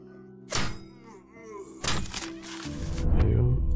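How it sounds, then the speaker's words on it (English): Furniture is smashed for wood in the video game 10 Miles to Safety, giving heavy wooden thunks and splintering crashes in two main hits, followed by a rumbling low rattle. "We can also bust up furniture to get wood."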